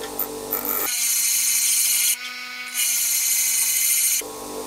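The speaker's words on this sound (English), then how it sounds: "I'll just grind that right off there." A lathe chamfer tool bit is pressed against a spinning grinding wheel, producing a loud, high, steady grinding whine in two long passes with a short break between, close and alone.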